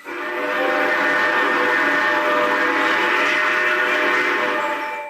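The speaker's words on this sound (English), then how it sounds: "A few coworkers run to my aid after they heard that final shrill whistle." Shrill train whistle sound effect in a ghost audio story, a loud sustained multi-tone blast that holds steadily for about five seconds before fading slightly, with no talking.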